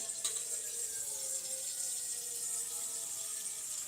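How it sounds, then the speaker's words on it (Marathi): Water pours steadily from a tap in a home kitchen while idli is being prepared, a continuous close hiss with no talk over it. "आपण थोडस पाणी घेऊया"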